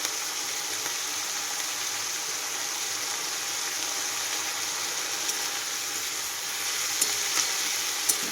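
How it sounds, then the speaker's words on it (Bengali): Potatoes with onion greens, salt and turmeric fry and get stirred in a pan, a steady soft sizzle with a few light scrapes near the end, close and without speech. "রাত্রে রুটি খাওয়ার জন্য না খুব ভালো গরম গরম পেঁয়াজ কলি আর আলু ভাজা"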